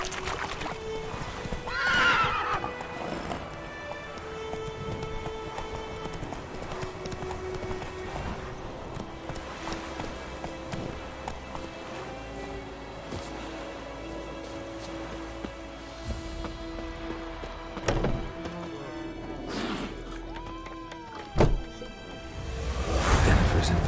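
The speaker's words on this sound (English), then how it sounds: "Run, Roach" Horse in The Witcher 3 video game, hooves clip-clopping under a loud whinny early on, with steady rain falling on surfaces throughout and a few later neighs and in-game effects.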